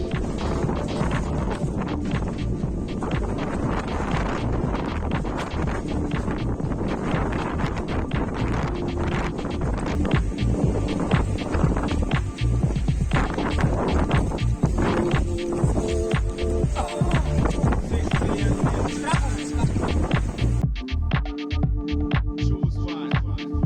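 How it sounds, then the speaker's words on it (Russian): Strong wind blowing in off the sea at a seaside spot during a weekend trip, a steady, roaring rush that buffets the microphone continuously for over twenty seconds with no talk. "О, вот это такой вой стоит. Это все ветер с моря."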